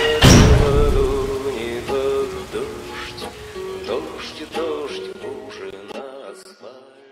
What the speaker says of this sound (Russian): Дождь, дождь